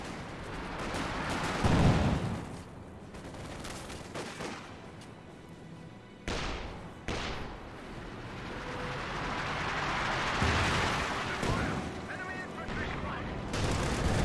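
An artillery barrage in Company of Heroes 2 sounds as distant, rolling booms and bursts of gunfire layered over a constant battlefield rumble, with occasional sharper blasts rising from the mix.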